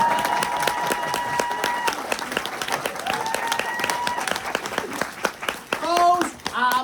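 Audience applause in a lecture hall, steady dense clapping for several seconds under a speaking voice, then louder bursts near the end as voices rise over it.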